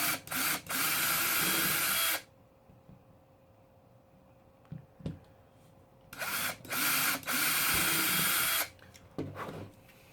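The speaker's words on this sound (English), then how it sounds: "a drill with a 5/32 inch bit" A power drill with a 5/32 inch bit whirs through plastic in two bursts of about two seconds each, separated by quiet handling clicks and taps.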